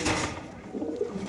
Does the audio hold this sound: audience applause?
no